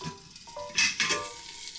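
Fish pan-frying in oil over medium-low heat gives a quiet, steady sizzle with two brief louder hissing bursts.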